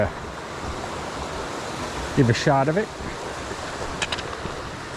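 A stream flows beside a hiking trail near Harmon Hill, Vermont, making a steady, broad rushing wash throughout. Someone speaks briefly over it partway through.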